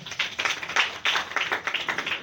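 A church congregation applauding, uneven rhythmic clapping in bursts with brief dips between them, moderately close and without talk.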